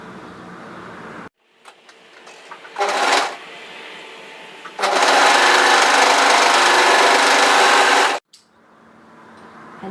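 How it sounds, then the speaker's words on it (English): An overlocker sews the cuff seam of a knit sweater. It starts with short whirring bursts, then runs in one loud, steady mechanical buzz for several seconds and stops abruptly. "and then overlock the seam here together"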